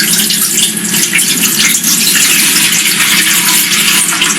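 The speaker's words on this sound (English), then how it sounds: "You empty the water and you rinse it in filter water." Tap water runs steadily into a kitchen sink as fresh vegetables are rinsed in filtered water, a continuous close splashing gush with no talk over it.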